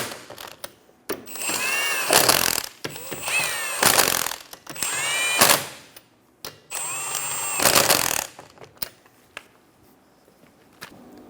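A power tool tightens the lug nuts on a 2003-2007 Honda Accord wheel in four loud, whining bursts of a few seconds each, separated by brief pauses and clicks, heard up close with no talk.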